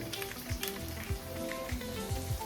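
Fish frying in a pan for chapala pulusu curry makes a steady, moderate sizzle with soft, irregular pops and a faint tonal hum underneath.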